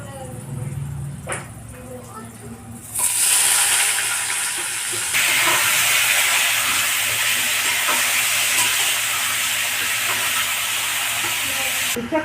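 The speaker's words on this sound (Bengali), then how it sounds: "আমি হালকা করে ভেজে নিই" Boiled potatoes, peas and vegetables fry lightly in a pan with dried chilli, cumin and bay leaf, giving a loud, steady close sizzle and hiss that starts abruptly and continues without letup.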